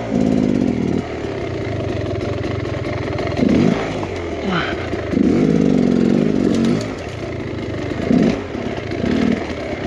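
An enduro dirt bike rides along trails, its single-cylinder engine droning steadily with repeated surges of revving, close and loud throughout.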